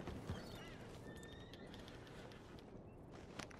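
A horse in the Red Dead Redemption 2 video game gives a sharp whinny at the start, followed by soft clip-clop hoofbeats and faint ambient outdoor sound, fairly quiet throughout.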